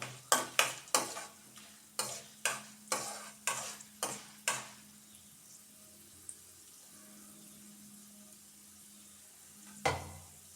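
Spinach tempering for palak upma being stirred in a pan: about ten sharp, rhythmic scraping strokes close by, then a low steady sizzle with one last stroke near the end.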